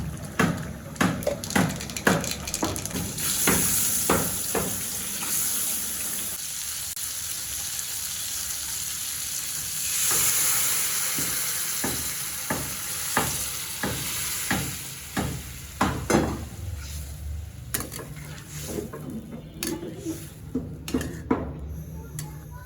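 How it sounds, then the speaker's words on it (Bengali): A pot of meat curry comes to the boil after water is added, with close bubbling and spitting, ladle and pot clatter, and irregular clicks and knocks of stirring. "মাংস কষানো হয়ে গেছে, জলটাও দিয়ে দিয়েছি, বলকও চলে আসছে"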